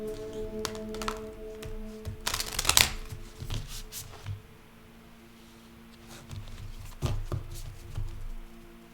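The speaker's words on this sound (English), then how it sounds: "So we're just going to do a very quick card pull for the collective." Tarot cards shuffled by hand in quick riffling bursts and soft flutters, loudest around the middle, with quieter tapping and handling between, and a faint steady hum underneath.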